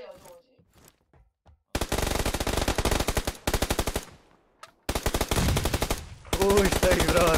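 Rapid automatic gunfire in the video game PUBG Lite, several loud sustained bursts of shots separated by short pauses, with faint quieter shots before them.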